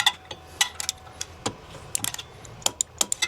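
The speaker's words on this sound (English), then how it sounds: "let's get a torque wrench, torque them down" Torque wrench tightening bolts to 32 foot-pounds on a RZR Pro S clutch install, with sharp, irregular metallic clicks and ratcheting taps, some close together, spread over a few seconds against a quiet background.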